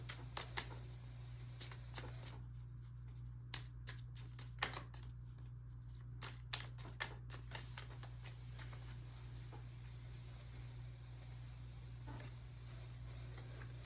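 Tarot cards are shuffled close by, a series of quick crisp riffling taps and slaps in short bursts over a faint steady hum, with no talking.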